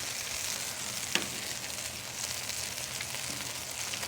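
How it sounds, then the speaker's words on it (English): Ground pork with onions fries on a flat-top griddle, giving a steady, dense sizzle close up with a single spatula tap partway through and no talking. "This ground pork really cooks up nice too."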